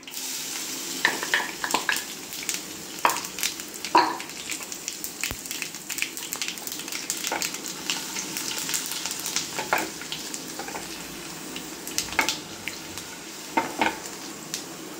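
Garlic, urad dal and chana dal crackle in hot oil for a tempering, a steady sizzle dotted with sharp popping spatters and occasional stirring, close and fairly loud.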